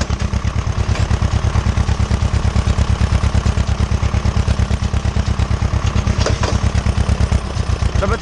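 An Ursus C-330 tractor engine runs loud and close while working a field after maize, a steady rapid low thumping pulse throughout with no talk over it.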